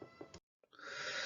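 A cat meows twice, close and fairly loud; the first call cuts off abruptly, and after a short gap a longer, drawn-out meow follows.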